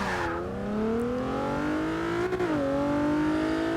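A 1999 Mitsubishi Lancer Evolution VI GSR engine in the game Forza Motorsport 6 revs up with a smooth rising whine, briefly dips as it shifts, then climbs again; steady and close, no talking.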